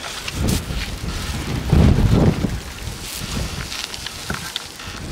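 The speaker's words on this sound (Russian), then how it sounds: "Ну-ка, ветер, потерпи." Wind blowing outdoors in gusty rumbling buffets against the microphone, swelling strongest midway and then settling into steady blowing noise.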